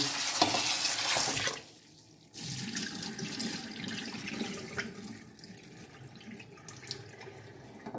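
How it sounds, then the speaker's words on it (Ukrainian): Running tap water pours steadily into a cooking pot, close and fairly loud, stops briefly, then resumes with a shifting, filling tone. "Набираємо воду."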